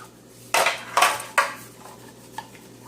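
Metal baking pans clank and scrape together as they are handled while being greased with butter, three loud close knocks followed by a small faint tap, with no talk.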